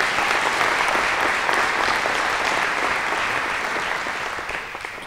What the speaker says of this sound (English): I'd like to give a round of applause to them